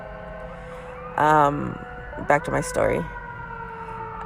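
A passing ambulance siren wails steadily in the background while someone talks over it.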